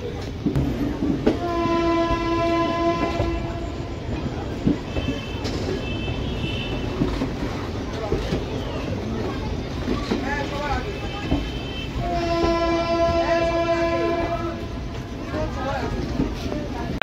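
The Shalimar–Puri Sri Jagannath Express runs with a steady rolling rumble, and two long, loud horn blasts sound, one early and one later, while a voice talks over the train noise.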